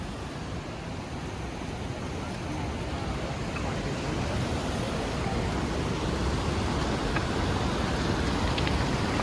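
Mountain stream water rushes down into a stone-lined bathing spot on the Hemkund Sahib pilgrimage route, giving a constant, close, full-bodied roar that stays even throughout without pauses.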